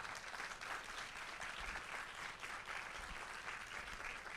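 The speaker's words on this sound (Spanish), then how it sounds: "Alguien le da un aplauso al Señor que lo crea." A congregation at a church service applauds steadily, a continuous wash of clapping from many hands with no speech over it.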